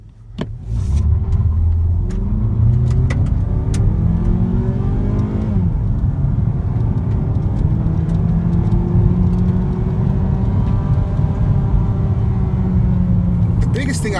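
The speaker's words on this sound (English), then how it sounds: "All right, let's do a quick 0 to 60 here." A 2017 Mazda3 Touring accelerating from 0 to 60, its engine note climbing through gears with rising pitch, dropping at a shift and building again, loud and close from inside the cabin.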